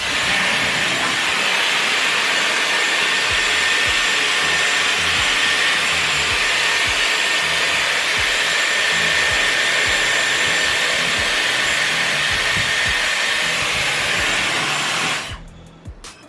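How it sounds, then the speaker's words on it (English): A Dyson Airwrap hair dryer on its highest fan blows a loud, continuous close-up whoosh for about fifteen seconds, then cuts off abruptly. "Fan on the highest. Okay, I'm just gonna blow dry."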